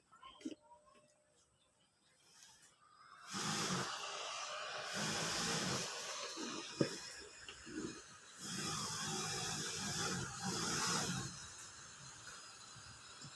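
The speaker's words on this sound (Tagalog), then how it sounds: "kumuha tayong blower" A steady, loud blowing rush of air from an electric blower drying a water-damaged mini amplifier starts a few seconds in and runs continuously, with brief dips and handling noises, after a quiet opening.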